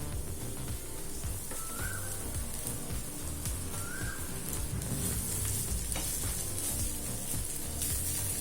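Flattened rice for aval upma stirred in a hot pan, a continuous crackling sizzle with scraping stirs throughout, close and fairly quiet, with two brief faint whistle-like tones.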